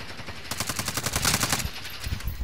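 Sniper rifle gunfire in a video game, heard as a rapid, loud burst of about a dozen evenly spaced shots lasting roughly a second, followed by a short lull and faint trailing rumble.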